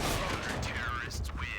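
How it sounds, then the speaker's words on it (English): Rifle gunfire from a professional CS:GO match on the Overpass map, heard as a dense burst of shots and game effects under continuous commentary. "Great shooting from the rifler"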